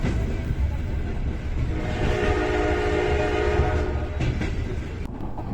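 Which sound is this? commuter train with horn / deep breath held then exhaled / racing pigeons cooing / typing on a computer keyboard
commuter train with horn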